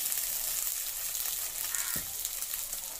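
Mushroom manchurian with red and green chilli and soy sauce sizzling in a pan as it is stirred, a steady close frying hiss with occasional scrapes of the spoon.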